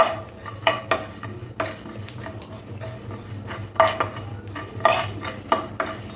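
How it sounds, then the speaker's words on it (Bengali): Cumin and coriander seeds dry roast in a hot pan, with a soft faint crackle under repeated sharp taps and scrapes of a spatula against the metal. "জিরে আর ধনেটা খুব সুন্দর করে একটা চড়বড় করে আওয়াজ হচ্ছে"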